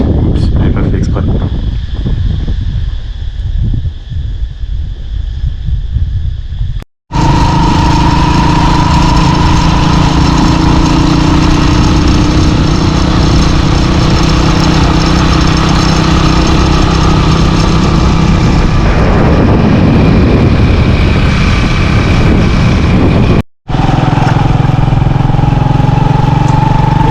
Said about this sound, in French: Et on voit là-bas Lila qui déplace ma moto parce que je me suis mis en plein milieu de la route.